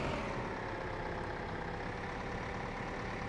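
A tractor in Farming Simulator 2015 hauls a very heavy trailer, its engine a constant dense low drone with steady broadband rumble, close and unchanging for a few seconds.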